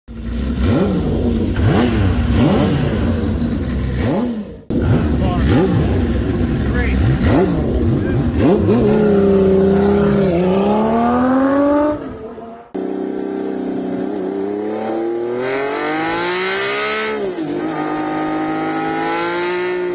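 A Honda CBX inline-six motorcycle engine howls and revs up and down in layered, rising wails, loud and close, with an abrupt cut to another run.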